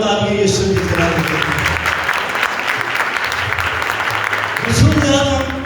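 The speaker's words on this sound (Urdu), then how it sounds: "تالیاں یسوع کی طرف" A congregation at a Sunday church meeting claps loudly for several seconds, a dense steady roar of hands, with a voice speaking briefly at the start and again near the end.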